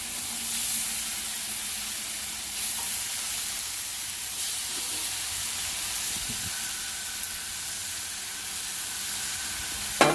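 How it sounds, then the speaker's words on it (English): Steaks sizzle on a hot griddle as a steady, close, broadband hiss that continues throughout, with a few faint clicks and scrapes of handling and no talking. "We're going to take it and just flap them all down right there."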